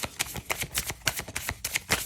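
Tarot cards are shuffled in quick repeated riffles, a crisp rhythmic flutter close up with no voices.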